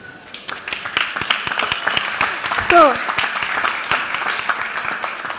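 An audience at a European space exploration presentation breaks into applause, scattered claps building into a steady round, with voices and laughter mixing in over it.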